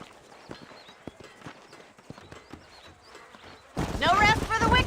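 Horse hooves clip-clopping in the video game Red Dead Redemption, a soft steady walking rhythm under talk, before louder game sound swells at the end.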